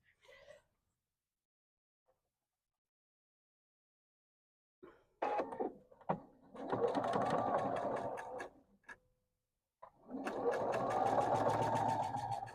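A sewing machine runs in two sustained bursts while stitching batik bias binding, near and steady, with brief handling sounds before it and quiet stretches between.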